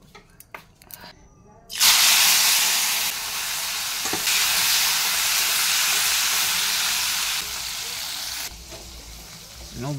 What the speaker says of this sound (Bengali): মাছটা ভেজে আলুটা ভাজবো,